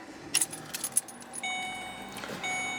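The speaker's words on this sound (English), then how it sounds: "Turn the truck on." Keys jangle close by, then the engine of a 2006–2010 Ford Explorer truck catches and settles into a steady low idle, with no talking.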